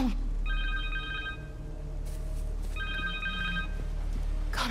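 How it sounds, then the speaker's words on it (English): Connor's cell phone rings in Marvel's Spider-Man 2 game: two bursts of bright electronic trilling ring, separated by a pause, over low ambient game rumble. "Connor's cell phone."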